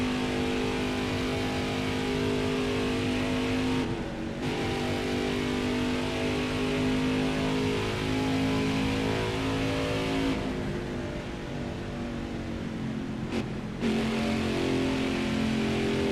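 Race car engine from a racing video game lapping Darlington in a steady, loud drone that runs almost unbroken, with brief dips around gear or throttle changes and no talk.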